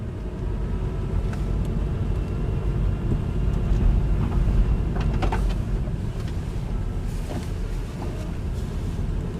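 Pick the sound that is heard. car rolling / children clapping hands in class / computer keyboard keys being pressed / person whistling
car rolling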